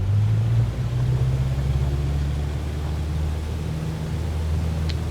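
Cessna 152 engine drones at takeoff power during a touch-and-go, a steady low rumble with a constant tone heard from inside the cabin amid broadband noise.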